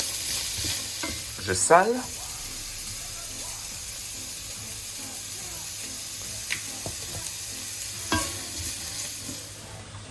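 Courgettes fry in a pan for chicken rice, giving a soft, steady sizzle with a few scraping stirs near the start and middle, and a brief voice speaks early on.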